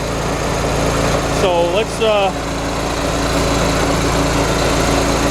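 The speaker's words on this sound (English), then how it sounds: "see what happens when this air compressor gets to 175 psi" A North Star air compressor runs steadily and loudly, building pressure toward 175 psi with a constant motor drone and hiss throughout, while someone speaks briefly over it.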